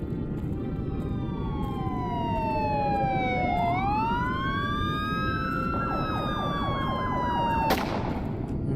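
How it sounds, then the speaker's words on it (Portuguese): A police siren in a video game wails loudly and continuously, its pitch sweeping down and back up, ending in a sharp bang over a dense rumbling background. "começamos a escutar barulhos de sirene"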